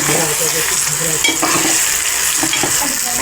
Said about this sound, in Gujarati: હવે આપણે આ રીતે ચણાના લોટને તેમાં ભભરાવી લઈશું અને તેને હલાવીને મિક્સ કરી નાખીશું